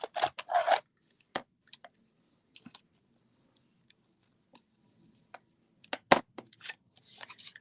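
Scissors cut paper for a birthday hat gift box, sharp close snips and clicks in short irregular bursts separated by near silence.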